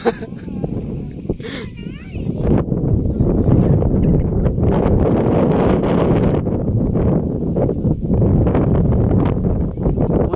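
Strong wind buffets the microphone outdoors in a loud, continuous rumble, with voices talking faintly underneath.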